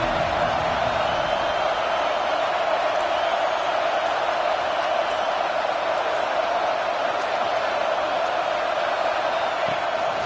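A stadium crowd at a college football game roars in a dense, constant wall of cheering, loud and unbroken the whole time.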